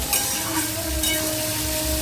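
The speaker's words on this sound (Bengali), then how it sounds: "আলুর সঙ্গে চিংড়ি মাছটা ভালো করে ভেজে নিই।" Shrimp and potatoes sizzle and crackle in hot oil, a steady close frying sound with faint stirring.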